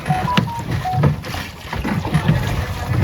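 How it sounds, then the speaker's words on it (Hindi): A small boat cruises on the Narmada river at Bhedaghat among marble rocks, with wind buffeting the microphone and faint water and engine noise, plus soft tonal chirps in the background. "आप लोग कर रहे हो माँ नर्मदा जी में नौका विहार"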